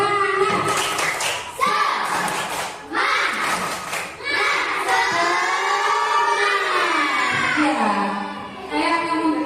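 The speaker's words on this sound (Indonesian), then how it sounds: "Sebelumnya kita tepuk semangat dulu ya." Classroom of children doing the 'tepuk semangat' cheer, a few rhythmic clap patterns alternating with loud chanted and sung voices in unison.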